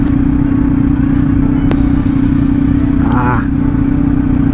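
A Kawasaki Z900 motorcycle with a soft clutch lever runs with a loud, steady engine drone. A single sharp clunk marks the shift into first gear, and a brief voice sound comes later.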